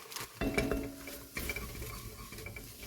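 Frozen plant-based mince goes into a pan: a loud clatter and scrape of utensils against cookware in the first second, followed by a busy rattle and faint sizzle of stirring and handling, with no one talking.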